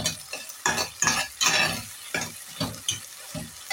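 Tomatoes fry in a pan under a spoon that scrapes and stirs in repeated strokes about twice a second, each one stirring up a burst of sizzling. The sound is close, with no voices.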